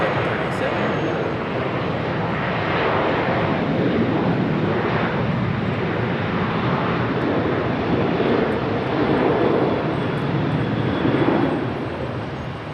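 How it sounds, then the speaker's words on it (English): A Delta Boeing 717 airliner taxis at Charlotte Douglas airport, its jet engines producing a loud, steady broadband roar with a high whine, continuous throughout at moderate distance. "And there's our Delta 717 finally taxiing up here."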